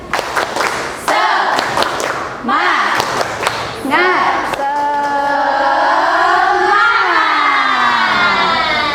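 A school class does a rhythmic spirit clap, a few sharp patterned handclap bursts followed by children's excited shouting and chanting voices, loud and close in a classroom.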